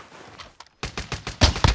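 Bursts of Swiss rifle gunfire ring out in a Call of Duty match, a quick string of sharp close shots after a brief pause, the last few louder and punchier.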